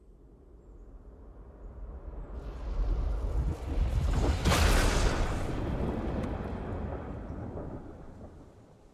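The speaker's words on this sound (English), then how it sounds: "So there's the lightning strike for you." Lightning from the rift in Fortnite: a deep rumble building to a sharp, loud crack near the middle, then a long roaring tail that slowly fades.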